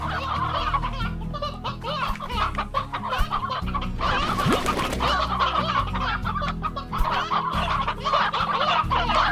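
Stony hens cluck in the video game Slime Rancher, a busy flock of chicken-like clucks and squawks layered continuously over a low ambient game backdrop, no speech.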